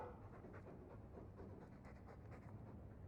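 A Mabari war dog from the Dragon Age video game pants steadily, a soft, continuous rhythmic breathing at low volume with no other sounds.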